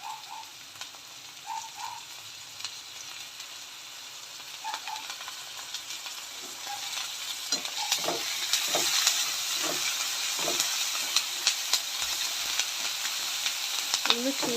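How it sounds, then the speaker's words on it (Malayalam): Ginger-garlic paste fries in a hot pan for a Kerala-style tilapia fish curry, with a steady broad sizzle that grows louder and fuller, a few soft stirring knocks, and faint chirps early on. "ചെറുതായിട്ടൊന്ന് ഫ്രൈ ആയി കഴിയുമ്പോൾ നമുക്കിതിലോട്ട് ഇഞ്ചി വെളുത്തുള്ളി പേസ്റ്റ് ഇട്ട് കൊടുക്കാം."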